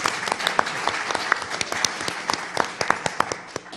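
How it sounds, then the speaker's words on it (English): Audience applause at a Chamber of Commerce candidates forum: a steady, dense burst of clapping from a room of people, with sharp individual claps standing out throughout. "One more round of applause for our moderator and timekeeper who gave"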